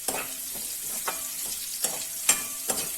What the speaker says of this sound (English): About a minute you can just fry the onion.